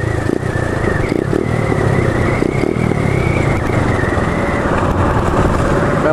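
A small Chinese pit bike rolls along at speed with the clutch pulled in, its engine idling under steady, loud wind and road rumble, a thin whine holding across the whole stretch without revving.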